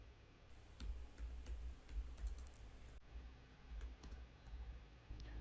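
Quiet, steady clicking of computer keyboard keys as someone types data into an Excel spreadsheet, a run of close, even keystrokes with a few louder taps, no talking.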